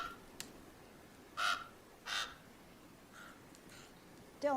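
A crow in a Game of Thrones episode caws in a few separate, fairly clear calls spread across a quiet stretch, with a final harsher call at the end.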